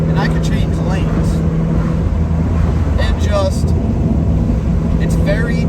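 A Mazda Miata on the road, heard from inside as a loud, steady engine drone mixed with rushing wind noise that never lets up.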